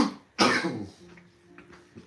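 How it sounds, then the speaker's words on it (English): One sharp, close cough, followed by faint breathy sounds as it fades out. "I want this cough to go away."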